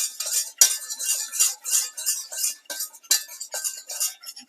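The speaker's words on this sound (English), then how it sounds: "Sprinkle that in and whisk it till it's all melted in." A whisk works plain flour into a melting mixture in a pot, giving quick rhythmic metallic scrapes and clinks that repeat steadily close up, with no voices.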